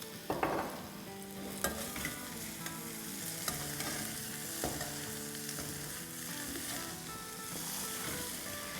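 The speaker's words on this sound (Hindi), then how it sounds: "कॉन्स्टेंटली चलाना है, लेकिन हल्के हाथों चलाना है।" Potatoes for Schezwan fries stir-frying in a pan: a steady, full sizzle runs throughout, with occasional louder scrapes and clicks of a spatula against the pan as they are gently turned.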